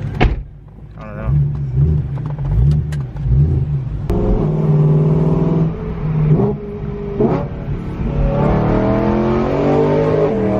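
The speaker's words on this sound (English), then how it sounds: "All right, so we're about to go for a little test drive so you can see how it feels." A BMW E92 M3 accelerating hard on a test drive, the engine climbing through revs with gear shifts and a swelling roar heard from inside the car, with occasional voices mixed in.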